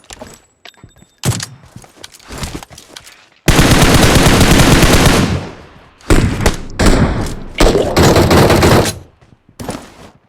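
Gunfire in the mobile battle royale game PUBG Mobile comes as loud, close bursts of automatic fire and sharp single shots, with one long sustained volley in the middle and short gaps between bursts.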